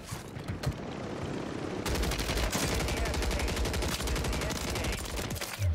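Rapid automatic gunfire in Call of Duty Warzone, a dense run of shots firing almost continuously close up, with an earlier short burst and scattered game sounds.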